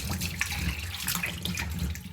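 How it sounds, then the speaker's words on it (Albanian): Tap water runs steadily into a kitchen sink as freshly picked garden tomatoes are washed, giving a continuous close splashing rush with no pauses. "Domatet e vjelura nga kopshti im vendosim në lavapjat dhe i bëjmë një larje të mirë."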